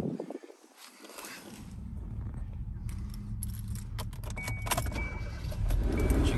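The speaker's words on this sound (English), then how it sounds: "Let me jump up front and I will crank it up for you." A 2018 Kia Soul base model starts up: keys rattle and the starter cranks briefly, then the engine catches and settles into a steady, close idle that grows slightly louder toward the end.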